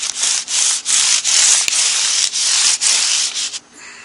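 Guitar frets being sanded level with 600-grit sandpaper, a loud, close, steady rasping rub in quick back-and-forth strokes that fades out at the end.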